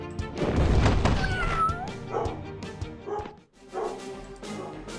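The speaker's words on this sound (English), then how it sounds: "Dogs are borking." Small dogs in the video game Epic Battle Fantasy 4 bark and yip in short bursts, a few whiny calls among them, with a brief quiet gap before more barking.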